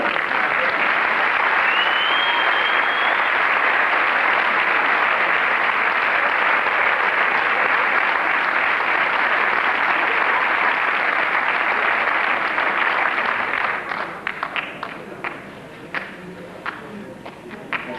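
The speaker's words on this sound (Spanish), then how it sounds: "os vamos a recibir con un aplauso" Sustained audience applause welcomes folk dance groups at a 1998 folklore festival dance day, steady and dense for most of the clip before thinning into scattered individual claps near the end.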